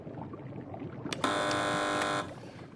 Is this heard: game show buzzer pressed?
yes